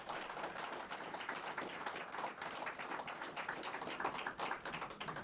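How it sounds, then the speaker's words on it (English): An audience applauds at a police swearing-in ceremony in Stockton, a continuous fairly faint patter of many hands clapping with no talking over it. "Give them a round of applause."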